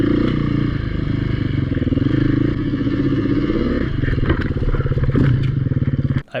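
A Beta dirt bike ridden at a demo day, its engine a close, steady rattling drone with rapid firing pulses and clattering as it moves over rough ground, ending in an abrupt clunk.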